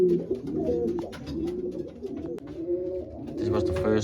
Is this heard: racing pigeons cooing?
yes